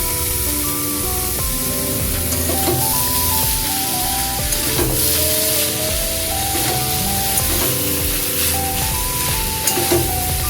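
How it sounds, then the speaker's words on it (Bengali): Boiled cabbage tossed into a hot pan of ginger and green chili paste for a prawn and cabbage curry, giving a steady, close sizzle with stirring scrapes throughout, while soft tonal music plays underneath. "আদা আর কাঁচা লঙ্কা বাটা সিদ্ধ করে রাখা বাঁধাকপিটা এবার দিয়ে দিচ্ছি"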